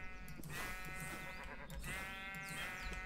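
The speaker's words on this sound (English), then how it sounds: "Oh, you are a sheep." Stardust ram, a sheep in a Minecraft 1.19 modpack, bleating twice in quick succession, two wavering baa calls, fairly faint and alone.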